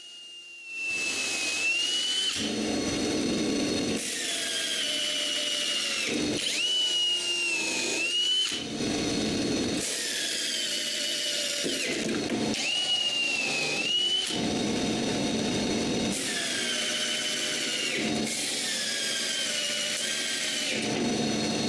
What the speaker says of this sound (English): this time I screw it to the plywood.